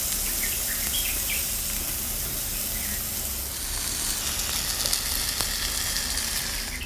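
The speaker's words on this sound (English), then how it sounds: "Cook it for about 5 to 10 minutes from both sides." Marinated chicken with sriracha sauce fries in a pan with a loud, continuous crackling sizzle that holds steady from start to finish. Faint high chirps sound in the background.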